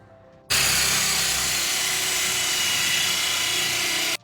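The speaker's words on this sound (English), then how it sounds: "Get your 2 1/8 inch hole saw." A power drill with a 2 1/8 inch hole saw starts abruptly and runs in one continuous loud, rough grinding drone for several seconds while cutting through a door, then cuts off.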